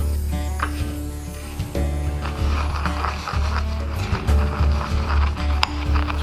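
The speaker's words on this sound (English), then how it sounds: "you take your mortar and pestle and you start grinding until it's in a powder" Dehydrated sea salt crushed with a mortar and pestle, a continuous gritty scraping and grinding with irregular strokes, close and fairly loud, with no voices.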